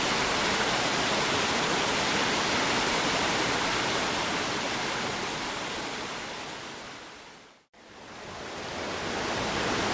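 A waterfall pours in a constant, loud, hissing rush, heard up close and steady throughout, with one brief dropout near the end.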